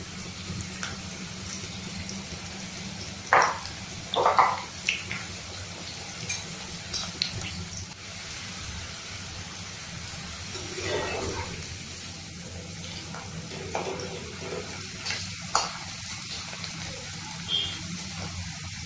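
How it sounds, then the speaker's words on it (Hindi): Okra frying in hot oil in a home kitchen, a steady soft hiss and sizzle with occasional louder crackling bursts, heard close and at low volume. "ये देखिए तेल गरम हो गया है। अब मैं इसमें भिंडी डाल देती हूँ।"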